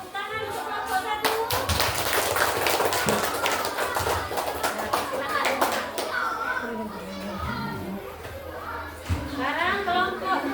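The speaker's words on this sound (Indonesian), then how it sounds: "Tepuk tangan untuk kelompok 1." A primary school class claps for a group of pupils, bursts of rapid hand claps close by mixed with children's excited chatter and shouts throughout.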